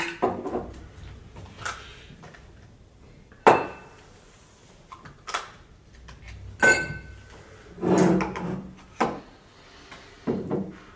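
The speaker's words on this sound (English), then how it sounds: "They are indeed vegan ice cubes two ice cubes per drink" Two ice cubes clink and knock into a glass while an old fashioned is mixed, giving a few sharp separate impacts with small rattles in between against a quiet room.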